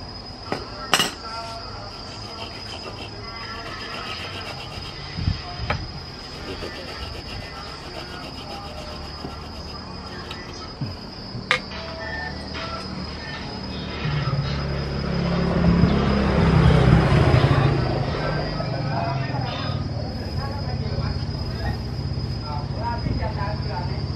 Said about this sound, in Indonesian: Ini kita potong sama gergaji boleh.